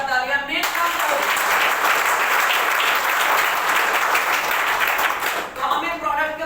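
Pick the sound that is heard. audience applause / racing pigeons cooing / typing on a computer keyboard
audience applause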